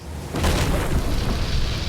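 A deep booming explosion effect from the video game AO, a sudden loud blast that rolls on as a sustained rumbling roar without any speech.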